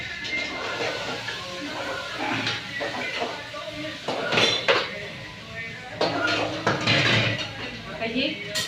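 A metal spoon scrapes and clinks against a pan as chilli powder, turmeric and salt are stirred into roasted tomato, in irregular bursts of clattering close by, with a voice speaking at times.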